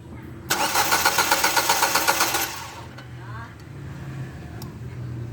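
A Ford EcoSport engine cranking without starting, a loud rhythmic starter churn lasting about two seconds, then a quieter background with faint clicks and a low hum.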